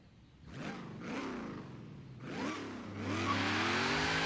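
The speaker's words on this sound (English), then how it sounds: "Can definitely hear that supercharger." A supercharged sleeper van in Forza Horizon 3 accelerates hard, its engine climbing through rising revs with short dips at each gear change, the supercharger whine building loud and close, with no talk over it.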